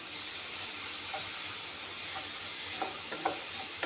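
Garlic, chili and ginger paste sizzling in a hot pan, a continuous close hiss with a few soft stirring clinks near the end.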